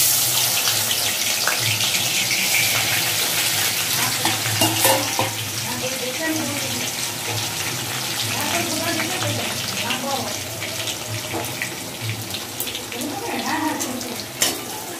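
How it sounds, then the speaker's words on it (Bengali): Kalmi greens frying with garlic in a pan, a continuous sizzle with stirring scrapes and some watery running sounds, steady and fairly close throughout. "এটা হচ্ছে কলমি শাক রসুন দিয়ে ভাজা করছি।"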